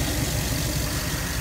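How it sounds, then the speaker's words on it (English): A 2014 Cadillac Escalade engine idles in a steady, even rumble, close and continuous with no other sounds. "Engine runs fine, no visible leaks, no obscure noises that shouldn't be making"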